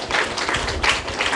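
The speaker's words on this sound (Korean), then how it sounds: "박수 한번 부탁드리겠습니다" An audience at a lecture session breaks into a burst of dense, continuous clapping that fills the room and swells and fades slightly.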